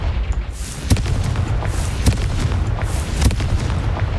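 Spell blasts in the Hogwarts Legacy video game, with a Confringo explosion among them: several sharp booming bursts at about one-second intervals over a steady rumbling game soundscape, with no talk.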